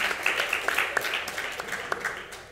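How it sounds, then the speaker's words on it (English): A public round of applause for Mark Hugo Lopez at a panel event, modest and fairly soft, a thin patter of claps from a smallish audience with a few sharper slaps standing out. "So we can give Mark a public round of applause"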